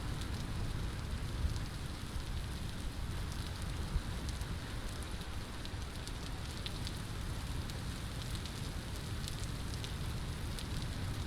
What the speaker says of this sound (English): The rain is definitely going sideways, and it wasn't before.